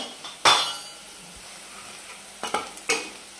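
Radish leaves with turmeric and red chili are stirred in a pan over low heat, with a few distinct scraping strokes and clinks over a soft sizzle, separated by quiet gaps.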